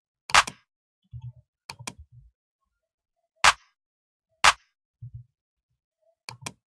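A crisp, dry clap sample in an afrobeat pattern snaps in a sparse, spaced rhythm, with soft low thuds between the claps and no voices.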